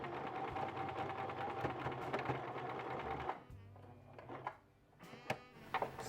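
Sewing machine running a reverse stitch on pants, a rapid mechanical needle chatter that runs steadily, then stops and gives way to a few quieter clicks and handling knocks, close and fairly faint.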